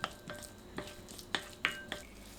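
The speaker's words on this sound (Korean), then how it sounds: "당면에 참기름 1큰술 넣고 섞어주세요." Glass noodles cut into short lengths being tossed with a spoonful of sesame oil for kimchi egg dumpling filling; sparse, close, soft clicks and sticky taps of utensils against a bowl, a handful of separate strikes at irregular intervals.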